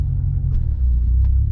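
A 2014 C7 Corvette's engine idles close by with a deep, steady rumble, a low throbbing drone that holds constant with no talking over it.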